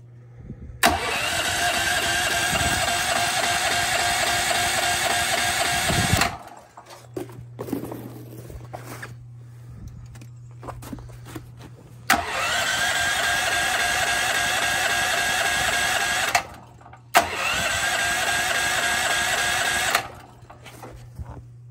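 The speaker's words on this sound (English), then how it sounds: "So now we're going to try to start it on natural gas because it usually seems to start." A portable generator running on natural gas starts up several times, each start bursting into a loud, steady running drone for a few seconds before cutting out, with a low idle hum and clicks in the gaps.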